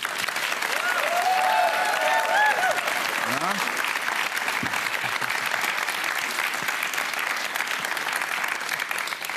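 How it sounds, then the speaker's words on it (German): Studio audience applause for a contestant in a TV cooking competition semifinal, sustained dense clapping with a few cheers, and a brief spoken word on top. "Großen Applaus für Patrick."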